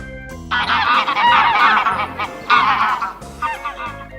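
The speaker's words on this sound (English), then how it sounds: "Goose." A goose honks in loud, repeated calls: two long honking bursts and a shorter third, close and clear with no talking, set against a faint background tone.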